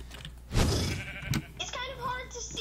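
A sheep in the Minecraft game Mineplex bleats once, a short wavering call close up, while excited voices talk over it.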